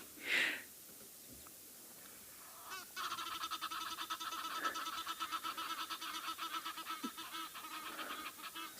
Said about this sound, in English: Look at the Egyptian geese flying over.